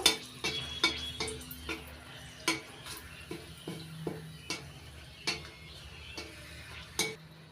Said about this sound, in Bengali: তেল গরম হয়ে গেছে এবার দিয়ে দিচ্ছি ফোড়নে শুকনো লঙ্কা তেজপাতা শুকনো লঙ্কাটা একটু ভালো করে ভেজে নেব